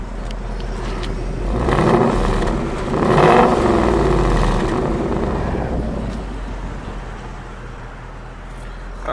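A 2018 Ford Mustang GT with its active exhaust in quiet mode idles with a low rumble, then gives two short, moderate revs before settling back to a steady idle.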